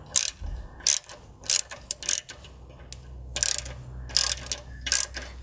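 A ratchet snugs down 11 mm nuts on an exhaust V-band clamp during a downpipe install on an MK7 GTI, several quick bursts of sharp clicking with short pauses between strokes, close and alone.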